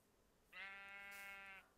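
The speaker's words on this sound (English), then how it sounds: "Okay, sheep. We don't need sheep right now." Sheep in a modded Minecraft game gives one drawn-out bleat of about a second, clear and fairly close, with no talk over it.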